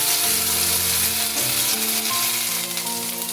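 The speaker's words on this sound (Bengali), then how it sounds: "টমেটোটা আলুর সাথে কিছুক্ষণ ভেজে নিয়ে দিয়ে দিচ্ছি কয়েকটা কাঁচা পাকা লঙ্কা" Tomato and potatoes fry in a pan with whole green chillies added, a steady close sizzle and crackle with a few soft stirring scrapes, no voices.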